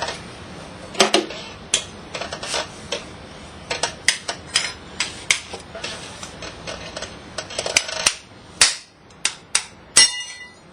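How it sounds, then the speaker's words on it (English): Sharp metal blows ring out one after another at an irregular pace as a hammer knocks the aluminum casing off a scrap alternator to free the rotor; close and loud, with a faint voice now and then between strikes. "So I'm going to break the aluminum off of it, hopefully revealing the rotor."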